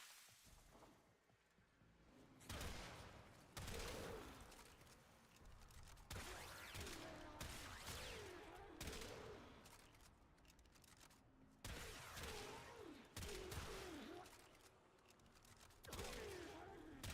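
Shotgun fire from the video game Warframe, using a build aimed at forcing critical hits: bursts of blasts come in clusters every second or two with whooshing effect tones between, all quiet and distant in the mix.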